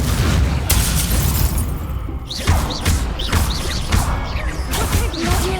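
Spell explosions during a Hogwarts Legacy duel: repeated heavy booms and crashing impacts roughly every second, layered with whooshing magical effects and short chirping tones, loud and close.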